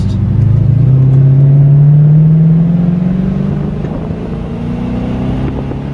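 A 1981 Aston Martin V8 Volante accelerates onto a highway, its loud, close V8 rising steadily in pitch through a gear. Partway through, the engine eases off into a lower, steady cruising rumble.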